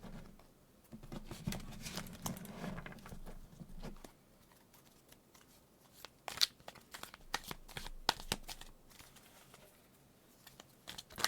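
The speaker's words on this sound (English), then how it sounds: "We're gonna do a different method of shuffling for this deck." Tarot cards being shuffled by hand in a quiet room, starting with a soft rustling riffle, then a run of sharp, irregular snaps and slaps as the deck is cut and bridged, close and fairly faint, with no talking.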